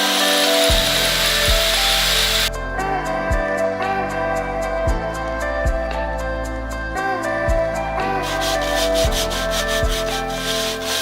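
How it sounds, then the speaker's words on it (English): Power tool cutting through the lip of a brake dust shield on a Toyota 86 so new rotors will clear, a steady loud grinding whine broken by regular sharp ticks, changing pitch partway through, with no talking. "I'm just going to put a cut through there so the new rotors will clear"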